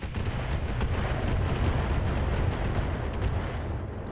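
Mech weapons fire in the Battletech video game, a dense, continuous barrage of booming artillery-like blasts and rapid gunfire rumbling loudly throughout with no pause.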